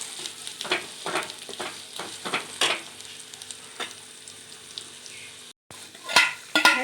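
Cluster beans with onion and curry leaves frying for a bhaji are stirred in a pan, producing rhythmic scraping strokes over a steady close sizzle, with a brief dropout and louder stirring near the end.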